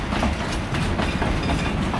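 A train rolls along the track beside the River Tyne with a continuous rumble and rhythmic clickety-clack of wheels, loud and close throughout.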